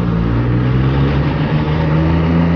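MV Agusta Brutale 800 motorcycle engine running loud and steady, close by, with a sustained droning tone throughout and no talk.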